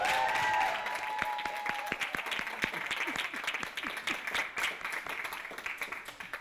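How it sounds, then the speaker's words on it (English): An audience at a creative writing workshop reading applauds the workshop leaders. Dense clapping starts loud and full, then thins gradually into scattered individual claps, heard at a moderate distance in an indoor hall. "so I think they deserve a special round of applause as well."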